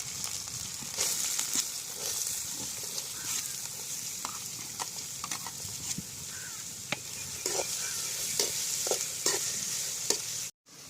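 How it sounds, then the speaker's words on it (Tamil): Chopped onions sauté in hot oil with a constant bright sizzle, punctuated by repeated clicks and scrapes of a spoon stirring through the pan; close, with no talking, ending in a brief cutoff. "வெங்காயம் ரொம்ப நேரம் வதங்க வேணாம்"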